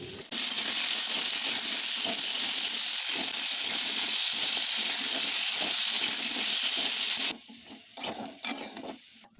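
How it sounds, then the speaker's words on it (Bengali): Cut potatoes with salt and turmeric frying in hot oil in a pan, a steady loud sizzle with stirring scrapes that drops away near the end. "কিছুটা পরিমাণ আলু কেটে রেখেছিলাম, সেটা নুন হলুদ দিয়ে ভালো করে তেলে ভেজে নেব"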